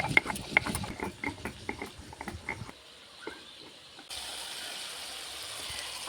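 Ginger and garlic are ground into a paste by hand in a home kitchen with a rapid run of rough scraping, grinding strokes. Quieter gritty rubbing follows, and a steady background hiss takes over.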